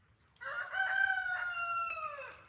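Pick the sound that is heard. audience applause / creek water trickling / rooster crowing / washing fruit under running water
rooster crowing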